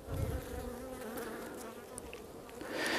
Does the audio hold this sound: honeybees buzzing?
yes